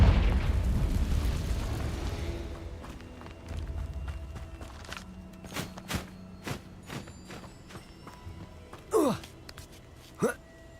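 A Confringo fire spell detonates in Hogwarts Legacy with a loud, booming burst that rumbles and fades over a couple of seconds, followed by scattered thuds, footsteps and sharp impacts.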